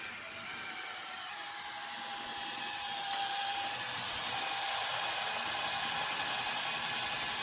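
A screw driven by a power driver into the first piece of a garage build, a steady whirring buzz that rises and holds, with a single sharp click partway through.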